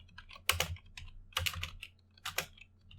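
Quiet bursts of keystrokes on a computer keyboard while code is entered, three short clusters of rapid clicks separated by pauses, close and faint, with no voice.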